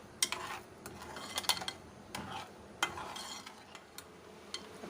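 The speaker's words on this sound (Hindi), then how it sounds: "अब हमें इसके अंदर मुसलसल चम्मच चलाना है।" A spoon stirs raw mango sweet and sour chutney in a pot without pause, giving soft scraping and light clinks against the metal, set over a quiet sizzle with no one talking.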